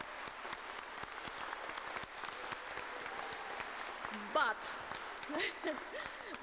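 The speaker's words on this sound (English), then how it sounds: "Can we all have a round of applause for all the people who helped us during this journey?" Applause at a graduation ceremony at Otago Polytechnic's Auckland International Campus: a crowd claps steadily throughout, moderately loud, with a few voices calling out over it.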